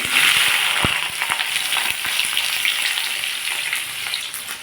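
Potatoes and tomatoes fry in a pan of oil after cardamom for a Bengali cabbage and lentil curry, giving a steady close, loud sizzle with a few sharp pops and crackles throughout.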